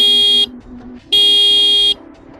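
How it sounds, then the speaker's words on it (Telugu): Two loud, sustained electric horn blasts from a 2024 TVS Raider 125 motorcycle, each about a second long, with a short gap between them and low background noise in the pause. "ఈ బైక్ హార్న్ ఎలా ఉందో ఒకసారి చూద్దాం"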